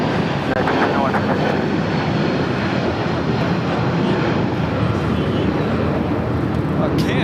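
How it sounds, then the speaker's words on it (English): A United airliner takes off from LAX bound for Newark, a steady broadband engine roar filling the whole clip at fairly close range, with people talking faintly underneath. "That was United 221 taking off to Newark"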